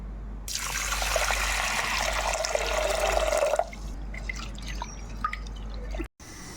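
Toor dal lentils being rinsed under running tap water, a steady close rush of water for about three seconds followed by softer drips and small clatters, with no talking.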